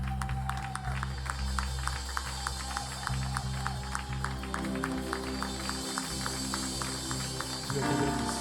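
Applause from a church audience welcoming a preacher, steady and fairly distant, a dense patter of clapping continuing evenly throughout with no voices on top.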